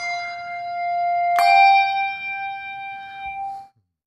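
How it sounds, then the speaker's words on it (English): Two bells tuned to F5 and G5 ring clearly, one sustained tone joined partway through by a second bright strike, both decaying slowly and then stopping abruptly. "So these are Paddy's bells, F5 and G5."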